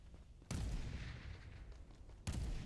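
Sniper rifle shots in a mobile video game: two sharp booming reports about two seconds apart, each followed by a rumbling decay, fairly faint overall.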